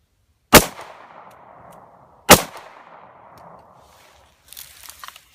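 Two sharp, loud .40 S&W pistol shots of Winchester PDX-1 165 grain ammunition fire about two seconds apart outdoors, each cracking hard and then ringing off in a fading echo. Faint rustling follows.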